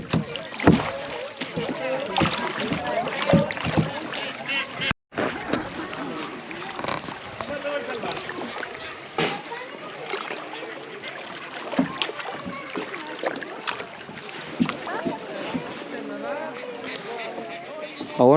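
A kayak is paddled on the sea near Puerto Peñasco, with repeated close paddle splashes and dips in an uneven rhythm, wind buffeting the microphone, and people talking throughout.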